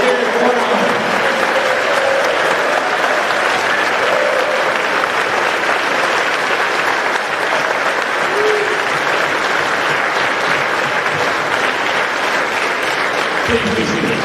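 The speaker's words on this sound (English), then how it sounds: "Please join me in a round of applause for all today's retirees." An audience at an Army post retirement ceremony gives sustained applause for the retirees. The dense clapping is loud and even, fills the room throughout and ends abruptly at the close.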